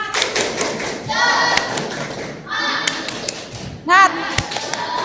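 Classroom of students performing the Indonesian 'tepuk semangat' clapping chant, rhythmic bursts of sharp claps interspersed with chanted voices, close and fairly loud.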